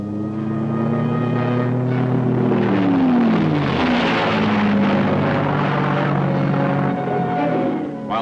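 A fixed-wing propeller spotter plane over Vietnam drones loudly overhead, its engine pitch sliding down as it passes by, then holding a steady hum.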